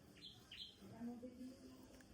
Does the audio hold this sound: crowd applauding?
no